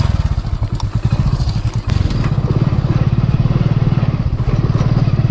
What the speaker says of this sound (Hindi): मैंने मेरा बाइक फंस गया।